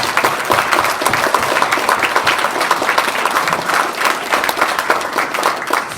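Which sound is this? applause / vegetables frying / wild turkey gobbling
applause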